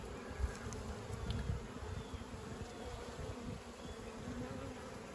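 Honey bees drone steadily inside an opened hive box during an inspection, a dense, low, continuous buzz of many insects with no voices over it.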